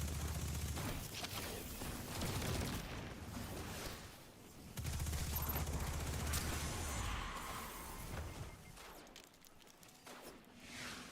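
The Unforgiven submachine gun in Destiny 2 lets off rapid automatic bursts amid dense game effects, with loud stretches of fire broken by a quieter gap near the end.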